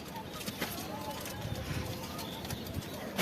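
A racer pigeon coos softly in a home loft, low and repeated amid faint background bustle, with someone speaking over it.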